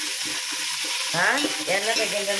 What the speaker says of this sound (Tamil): நல்லா கிண்டு கிண்டி கிண்டணும்